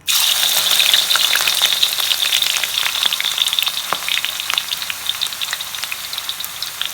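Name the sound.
onions frying in hot oil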